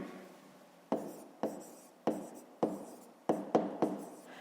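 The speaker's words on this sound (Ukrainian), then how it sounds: "Отже, записуємо." Handwriting on paper during a fifth-grade maths exercise, a series of short pen strokes coming in quick bursts, each one starting sharply and trailing off, close and quiet with no voice.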